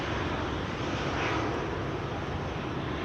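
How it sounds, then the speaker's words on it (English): A United Airlines Boeing 777 jet at Amsterdam Schiphol taxis toward the Polderbaan runway on a stormy day, its engines giving a steady broadband roar that holds at a constant loud level, alone without voices. "So there is a United Airlines 777 going to the Polderbaan right now."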